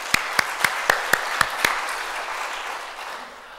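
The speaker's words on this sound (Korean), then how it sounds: "왕이신 하나님께 영광의 박수 한번 올려드리겠습니다." A church congregation claps in unison, seven or so sharp, evenly spaced claps over a wash of crowd noise that fades out, with no talking.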